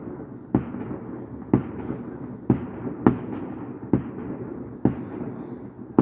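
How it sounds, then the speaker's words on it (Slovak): Firecrackers go off one after another around 3:45 at night, about seven sharp bangs at irregular intervals, each echoing briefly across the surroundings, with no voices heard. "nejaký šialenec tu púšťa takto petardy"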